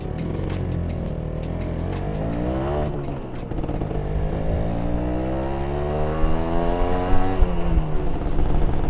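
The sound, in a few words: Ninja two-stroke motorcycle with stock exhaust revving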